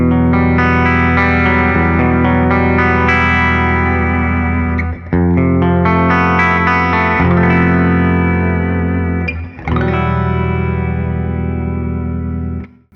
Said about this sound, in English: So here's bridge pickup humbucker.